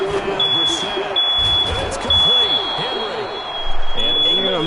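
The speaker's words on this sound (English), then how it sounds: "all the smoke alarm going on" A smoke alarm sounds a steady, piercing electronic tone that runs almost the whole time, over football video game commentary and people talking in a room.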